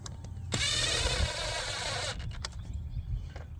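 A wrench tightens screws on a 2024 Chevy Trax during an air filter replacement: a quick close burst of ratcheting clicks lasts about a second and a half, followed by a few scattered light clicks.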